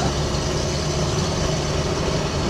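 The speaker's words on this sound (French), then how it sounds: "c'est le moteur hein, qui est forcément assez sonore parce que ben il est là" Constant loud engine drone heard from inside the cabin of a Renault Estafette van, engine close to the feet, a dense low rumble with a steady roar and no pauses.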